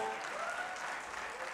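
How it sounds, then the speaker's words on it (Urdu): Faint, steady applause from an audience welcoming a speaker at an academic session, a soft continuous patter of clapping with no distinct voices. "سارے تالیوں میں ان کو خوش آمدید کہیں"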